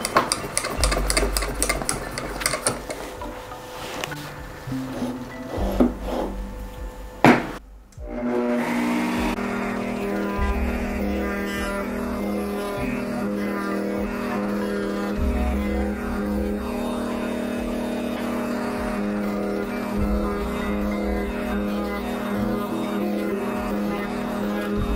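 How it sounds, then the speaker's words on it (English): A router cutting a 1/8 inch roundover on the edges of a wooden award puck, a loud sustained whine that rises and falls with the cut, starting after several seconds of shop noise with a brief burst of voice. "I'm going to add a 1/8 inch roundover to both sides of the puck using the router tape"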